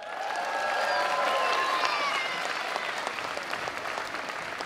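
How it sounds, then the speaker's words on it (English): Loud, sustained applause from a school audience after a primary school's energetic dance performance to a song, with cheering and whistles over dense clapping that holds steady throughout. "let's keep that applause going"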